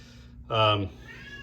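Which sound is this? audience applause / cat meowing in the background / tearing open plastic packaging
cat meowing in the background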